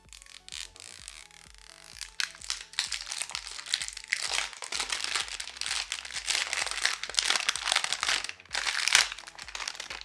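A product box for a purple hair conditioner is opened by hand, with close, busy crinkling and crunching of packaging material, rustling and occasional tearing in irregular bursts throughout.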